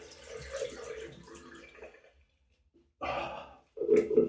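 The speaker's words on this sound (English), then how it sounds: "Now I'm going to try my best to rinse with cold water, but it's going to be a one-handed rinse." One-handed rinse with cold tap water after a straight razor shave: splashing and running water in short bursts separated by a silent gap, close to the listener, with breathy exhales between splashes.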